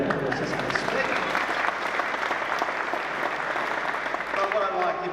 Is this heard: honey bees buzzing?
no